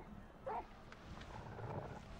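A dog growls in Final Fantasy XVI, a low rumbling snarl with a brief louder burst near the start over steady game background noise.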